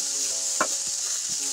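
Vegetable spaghetti sauce of fresh peppers and onions sizzles in a hot pan, making a steady frying hiss. A single soft stir-scrape sounds near the middle, with faint utensil bumps after it and no voices.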